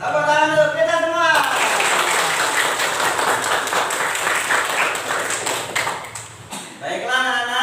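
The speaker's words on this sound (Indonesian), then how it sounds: "Tepuk tangan untuk kita semua." A classroom of schoolchildren breaks into about five seconds of dense, steady clapping, framed by a teacher's voice speaking before and after.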